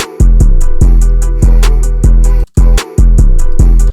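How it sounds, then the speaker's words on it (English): Loud, booming 808 bass notes in an FL Studio trap beat, each gliding downward after the attack for a slowed-down slide, layered under crisp hi-hat ticks in a steady rhythm, with no talking. "when you put the slide notes below a normal note, it creates this kind of slowdown effect"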